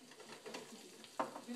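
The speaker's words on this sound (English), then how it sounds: "So you want to saute these things together." Onions and peppers sautéing together in a pan, a soft sizzle with light stirring scrapes and one sharper clatter near the end, brief and fairly quiet.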